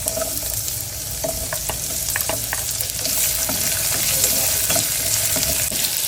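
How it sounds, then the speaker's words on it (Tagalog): White onion sautéing in a little oil in a pan, a steady close sizzle with crackling pops and the scrape of stirring, no voices over it. "Maglalagay lang ako ng konting oil. Tapos lalagay ko na yung white onion."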